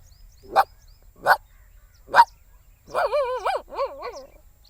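A person imitates a dog with three sharp, evenly spaced barks, then a run of whining, whimpering yelps, loud and close.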